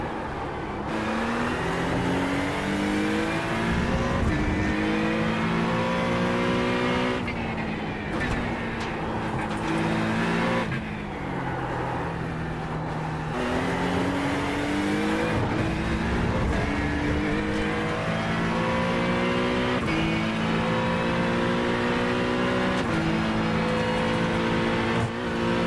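Acura GT3 race car engine in the iRacing sim, droning loudly and continuously as it revs up and down through gear shifts, with rising and falling pitch sweeps across the lap; a voice speaks intermittently over it.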